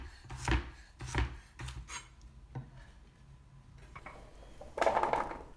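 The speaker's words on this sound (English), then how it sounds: "I'm gonna get started by cutting my potatoes. We're gonna do about a 1-inch dice" A knife dices potatoes and sweet potatoes on a cutting board, giving a few distinct close chops at an uneven pace, with softer scraping and rubbing between them and a brief louder rustle at the end.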